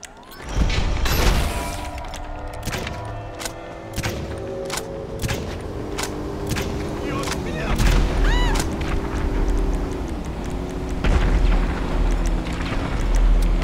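Grenade launcher explosions in GTA Online, a run of sharp booms and crashes over steady droning game engine and mechanical noise, with repeated blasts spread through the clip.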